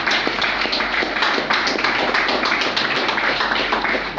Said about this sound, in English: Let's clap for the Black Stars.